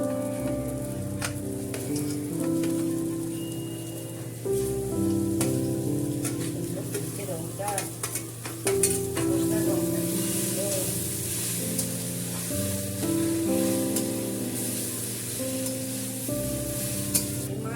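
Spiced Rui fish hitting a hot pan for fish cutlets, giving a steady, close hiss and crackle that lasts throughout over a soft melodic backing.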